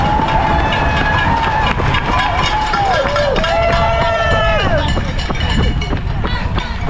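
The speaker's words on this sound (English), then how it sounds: "We got a little bit of a crowd here cheering." Crowd of spectators cheering runners along the course of the Dallas 2024 marathon, a steady roar of shouts and whistles close by with nearby voices mixed in throughout.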